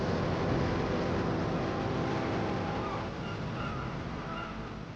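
Seabird colony calling on the sea cliffs of the Southern Outer Hebrides, a dense, continuous wash of harsh cries and wind or surf noise, steady and fairly loud throughout with no voices.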